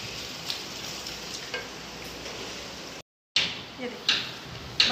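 Mutton ojri frying in a pan as lemon juice goes in, a steady close sizzle with a brief dropout and a few sharper spits after it.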